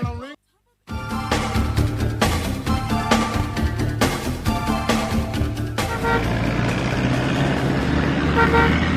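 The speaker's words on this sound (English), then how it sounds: "When you hear those horns, you know what time it is." Vehicle horns honk in a long, dense, tonal blare after a brief silent gap, loud and sustained as a radio segment opener, easing into a noisier traffic wash toward the end.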